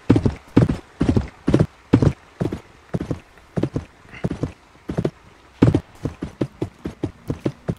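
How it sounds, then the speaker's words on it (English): Horse hooves galloping in the Westbound video game, a steady close clip-clop rhythm of loud paired hoofbeats continuing throughout, with no talking. "Giddy up, Buster"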